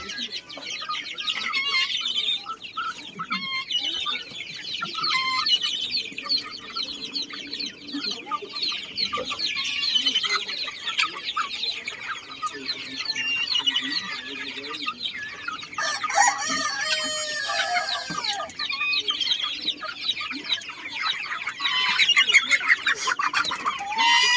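Backyard chickens cluck steadily throughout, with a rooster crowing loudly partway through; a busy, continuous farmyard chorus close by, no talk.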